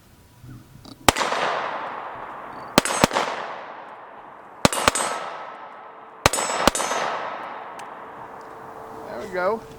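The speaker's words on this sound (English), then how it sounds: "Right now I'm going to go ahead and shoot some more." A Springfield SD subcompact 9mm pistol fires six sharp, loud shots outdoors in uneven pairs and singles, each crack followed by a long ringing decay.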